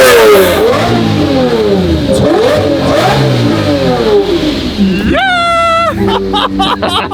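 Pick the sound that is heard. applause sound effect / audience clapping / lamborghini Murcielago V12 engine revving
lamborghini Murcielago V12 engine revving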